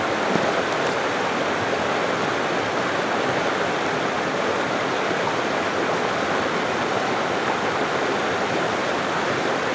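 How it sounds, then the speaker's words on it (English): A waterfall beside an abandoned tea farm in Japan gives a steady, loud broadband rush of falling water, unbroken and constant throughout with no voices. "Oh, there's a waterfall."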